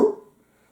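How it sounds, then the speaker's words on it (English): A roe deer buck in the woods gives a single short, gruff bark, close and fairly loud, fading quickly into quiet. "That's the call of the roebuck."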